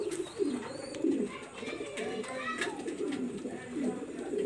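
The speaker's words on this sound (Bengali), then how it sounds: "এটা হলো প্রিন্স কামাগার কবুতর" A Prince Kamagar pigeon coos repeatedly in low rolling bursts, close and clear, while someone talks over it.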